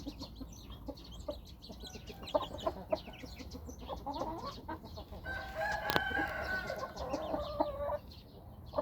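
A Chiang Mai bloodline breeding rooster crows loudly in a drawn-out call amid ongoing clucking and scattered fowl noises, with steady farmyard background throughout.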